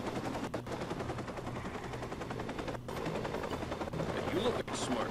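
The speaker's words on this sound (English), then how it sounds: "Can I hack the helicopter?" Helicopter rotor drone with bursts of machine gun fire in the Watch Dogs video game, continuous and fairly loud, with faint talk underneath.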